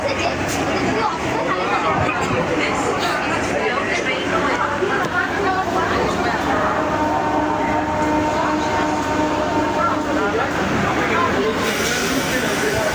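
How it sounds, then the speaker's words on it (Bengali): A passenger train rumbles as it departs a Kolkata station for Tarakeswar, with people chattering nearby and a steady mechanical hum underneath as it gets moving. "তো আমাদের ট্রেন ছাড়ছে।"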